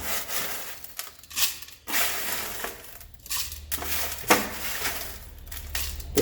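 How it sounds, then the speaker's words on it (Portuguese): Crushed eggshells clatter and scrape against a blender jar in a few short bursts, with rustling and tapping between them, close by. "Agora eu vou passar isso aqui, olha, para o copo do liquidificador."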